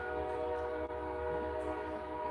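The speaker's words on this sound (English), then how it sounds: "Stop blowing that goddamn horn to that train." A train horn blows one long, steady, droning blast that holds without a break, over the low rumble of the rail cars.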